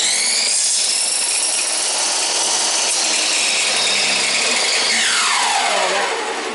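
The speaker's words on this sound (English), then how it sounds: "we take it to the saw. We're going to trim up that outside edge because it looks ratty." A power saw trims the ragged outside edge of a piece of trim, giving a loud, continuous, close-up cutting whine that holds steady and then drops in pitch near the end.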